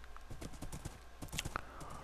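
Horse hooves clip-clop in the video game Minecraft, a quick run of light, even steps at moderate pace, soft and fairly close, with no talk over them.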